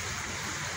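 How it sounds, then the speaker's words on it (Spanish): A river flowing steadily from the Araure watershed, a dense continuous rush of water heard alone and up close. No birds stand out. "este conjunto musical de pajaritos y este río"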